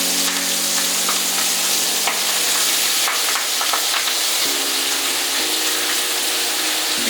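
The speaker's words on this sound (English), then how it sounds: "We're taking the chard and we're throwing it in." Chard sizzles and fries steadily in olive oil in a pan, a continuous close crackling hiss with faint stirring movement and no talking.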